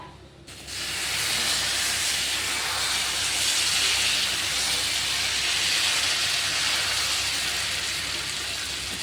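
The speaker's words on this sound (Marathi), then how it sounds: "तवा ठेवला आहे गॅसवर. आता तव्याला आपल्याला तापू द्यायचं." An oiled tava heats on a gas stove, giving a steady, close hiss of burner flame and warming metal that rises after a quiet start and holds evenly with no voices.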